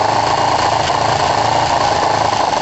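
Kawasaki ER5 motorcycle engine running while warming up, with a suspected carburettor issue: a steady, loud mechanical drone with a low rhythmic throb, close by and continuous with no talk.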